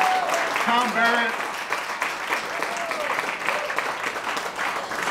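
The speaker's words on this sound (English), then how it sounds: "nice round of applause for Congresswoman Tammy Baldwin and Mayor Tom Barrett." A crowd at the Riverwest Public House in Milwaukee applauds Congresswoman Tammy Baldwin and Mayor Tom Barrett, a steady wash of clapping from a room full of people with voices mixed in, lasting throughout.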